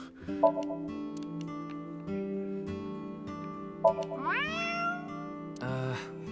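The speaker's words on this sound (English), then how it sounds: "If you meow at a lucky cat statue, happiness will come your way." Game character meowing at a lucky cat statue in AI: The Somnium Files – nirvanA Initiative, a couple of drawn-out, rising meows over soft background music, no talk.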